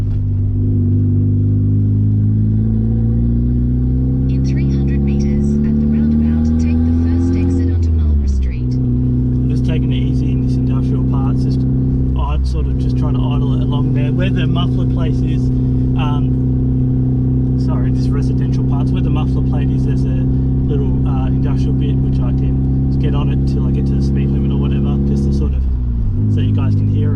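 A turbocharged Mazda 323 Familia is heard from inside the car as its engine climbs in pitch under acceleration. It shifts and pulls hard again in a loud, steady drone, with occasional faint interior rattles.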